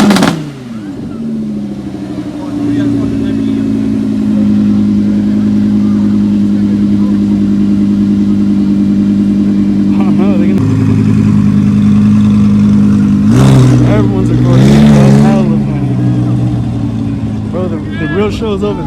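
A Lamborghini at a car meet runs with a deep, steady engine drone for most of the stretch, rising in a couple of louder revving bursts near the end, close by, with people chatting over it.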